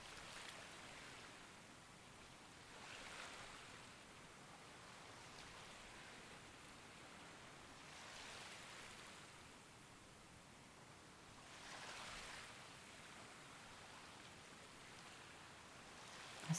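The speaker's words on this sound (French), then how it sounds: "Le ressac des vagues qui viennent et qui repartent." Soft waves wash in and recede in slow, regular surges, a gentle distant hiss with no voices.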